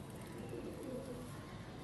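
Soft, low pigeon cooing, faint and continuous against a hum of background noise.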